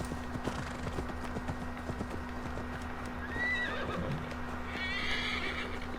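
A horse in Assassin's Creed Valhalla, its hooves clip-clopping in a steady gallop under a constant game hum, followed by loud, high neighing whinnies near the end.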